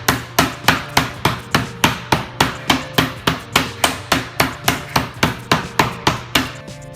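A meat tenderizer pounds a tough skirt steak in a steady run of about twenty sharp, evenly spaced thwacks, close and loud with no talking.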